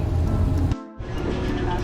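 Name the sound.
rain on the highway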